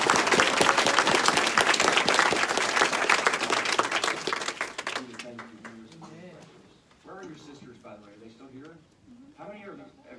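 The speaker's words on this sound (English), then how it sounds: "You got to clap for sisters" Applause at a Texas legislative committee hearing rings out loud and dense for about five seconds, then stops abruptly as people talk in the room afterward.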